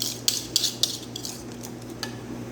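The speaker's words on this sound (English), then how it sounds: "you'll just give it a good vigorous whisk" A metal whisk clatters vigorously against a pot of chocolate pudding with butter, several sharp clinks and scrapes in the first second, then softer intermittent taps and one more clink near the end, fairly quiet and without talk.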